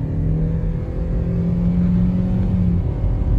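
A petrol automatic Kia Seltos accelerates hard, its engine drone rising steadily and loudly with a low rumble throughout, with no one talking.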